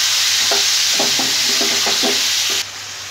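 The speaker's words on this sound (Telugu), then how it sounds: "ఫ్రై అయ్యే దాంట్లో ఈ చికెన్ వేసుకుందాం. వేసుకొని మంచిగా కలుపుకుందాం." Chicken frying in a pan with mint and green chillies for a green chilli chicken curry: a bright, close sizzle with a series of rhythmic stirring scrapes, dropping off abruptly near the end.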